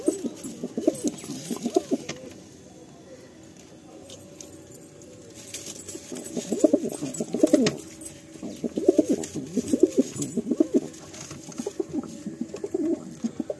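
A pair of Madrasi pigeons from a Behala loft is released, cooing in repeated low, throaty bursts, near and moderately loud, with brief quieter gaps between rounds and faint light rattles in the background.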